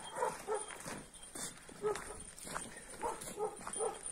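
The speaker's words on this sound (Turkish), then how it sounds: "Bakalım Duman'ın yabancı köpeklere karşı tepkisi nasıl olacak?" Two large guard dogs meeting for the first time, giving short repeated barks and yips with whimpering in between, fairly close amid outdoor background noise.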